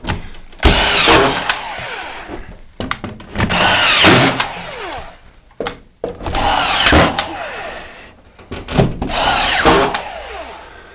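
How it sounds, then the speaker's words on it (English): A screw gun drives screws through a wall panel into a nailer, repeated bursts of whirring drilling with woody thunks between them, loud and close with short pauses in between. "Take your screw gun."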